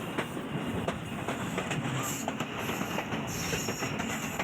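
The Millat Express passenger train rumbles steadily around a curve as it pulls into the station, with close, continuous clattering of wheels on the rails and faint squeals from the wheels.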